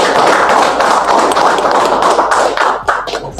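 A crowd claps steadily and loudly at a trainer-training session, sustained dense applause that holds for a few seconds, then loosens into a few sharper separate claps.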